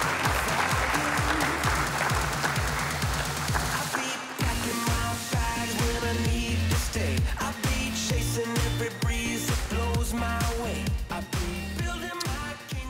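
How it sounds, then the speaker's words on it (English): A live morning-show audience claps loudly as sponsor guest Brad Tennison is welcomed to the stage, dense applause at first that settles into steadier, rhythmic clapping for about thirteen seconds, with music-like tones underneath. "Please welcome to the stage, big round of applause, Mr. Brad Tennison."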